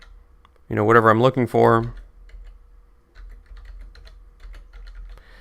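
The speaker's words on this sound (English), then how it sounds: "So I'm just going to type in," A search is typed on a computer keyboard: a short spoken line comes first, then a run of faint, quick, irregular key clicks.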